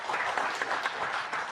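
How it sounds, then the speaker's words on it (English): Audience applause for a panel at a real estate tax talk, steady dense clapping filling the whole brief moment without voices. "let's give our panel a great round of applause."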